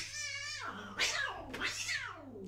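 A cat meows two or three times in a row, with drawn-out, wavering calls and a caterwauling edge, heard faintly over a steady low hum.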